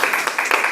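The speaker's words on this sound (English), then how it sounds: "let's give a round of applause" A short burst of audience applause at a health and wellness talk, brisk dense clapping held briefly at moderate level.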